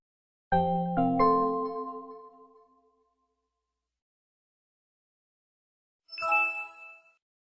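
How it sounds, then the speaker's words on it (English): A soft chime rings out in layered bell-like tones and fades over a few seconds, then after silence a brief bright jingle sounds. "this login sound is more of like an oversimplified remake of the Windows 7 startup"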